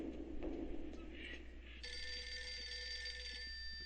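An in-game telephone rings in Eternal Darkness, a steady electronic ring that starts about halfway through and holds over a dim, murky ambient backdrop.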